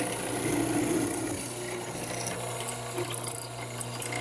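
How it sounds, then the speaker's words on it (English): A mortiser chops waste from between tenon lines in walnut, giving a steady mechanical whirr with rapid rattling and a few sharper clicks toward the end, moderately loud and without speech. "Over at the mortiser, I remove the bulk of the waste from between the lines."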